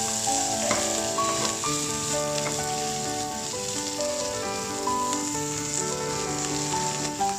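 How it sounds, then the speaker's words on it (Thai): Garlic chive flowers and liver are stir-fried in a pan, giving a steady, loud sizzle and crackle throughout. Occasional scraping from stirring and a faint tonal hum sit beneath the continuous frying. "ก็ทำการผัดคลุกเข้าให้เข้ากันนะครับ"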